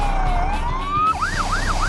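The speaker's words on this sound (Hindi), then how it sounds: "सायरन की आवाज सन्नाटे को चीर रही है" An emergency vehicle siren, likely a police car or rescue truck, blares loud and close: a rising wail that shifts into a fast, warbling yelp, with no voices.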